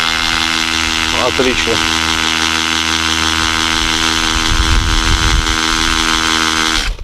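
WOSAI WS-MD13 brushless 20V cordless drill in hammer mode boring into a concrete tile, a loud, steady droning whir with a rattling edge that runs the whole time, and one brief spoken word partway through.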